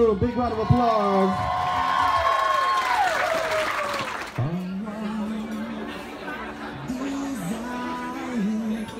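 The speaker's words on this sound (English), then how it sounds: "Big round of applause." Wedding guests clapping and cheering for the bride and groom, a dense burst of applause with whoops and crowd chatter, followed by a DJ speaking over music.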